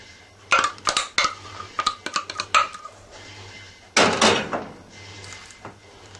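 Metal measuring scoop clinking and scraping against a muffin tin while batter is dished into each cup in a home kitchen: a cluster of sharp irregular clatters, a pause, then a louder scrape and a few faint taps.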